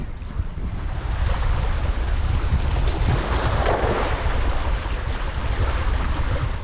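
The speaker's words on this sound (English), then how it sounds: "The wind's picked right up. It's probably 25-30 mile an hour now, northeasterly." Strong northeasterly wind of about 25 to 30 mph buffets the microphone on a South Wales sea coast at Friars Point, a steady loud roar with surf washing beneath it and no voices.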